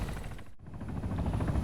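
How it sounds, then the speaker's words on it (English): The Mi-48 Kajman helicopter in Arma 3 yaws through a turn, its rotors thumping in a steady low rhythmic chop, with a brief dip in the middle before the sound comes back strong. "we're doing a quick yaw test, which will tell us how fast the helicopter can turn"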